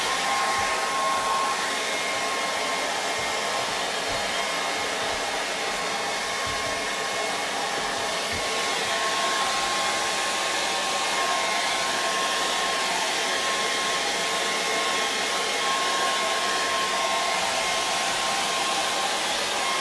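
A hair dryer blows steadily and loudly throughout, drying acrylic paint glazed over a charcoal portrait, its whirring fan hiss and motor whine constant and close with no talk.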